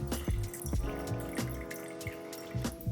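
Water trickles and drips in uneven splashes into a glass jar on a kitchen scale while 60 grams are measured out for a sourdough starter, close and fairly quiet, with no talking.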